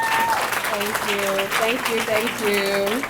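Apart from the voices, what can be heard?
audience applause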